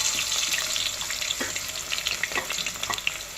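Onions fry with whole garam masala spices for meat pulao, making a steady sizzle with crackles and stirring sounds, moderately close and without speech.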